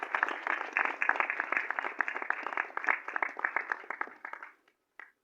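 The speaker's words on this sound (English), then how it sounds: "Round of applause." At a song launch event, a small group applauds in a brisk, thin burst of clapping that fades out, then one last clap after a brief pause.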